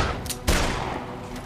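A gunshot in the zombie game Dead Island booms out near and loud with a broadband blast, followed by a dense rumbling game soundscape.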